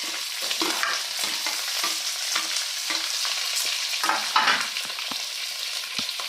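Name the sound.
onion, potato and green chili frying in a pan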